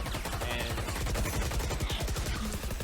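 Gunfire in a competitive shooter match as one player drops another with a headshot, dense rapid shots and bursts crackling continuously at close range across the whole moment.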